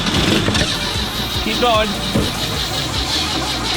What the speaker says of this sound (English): That's just warming up the car for us.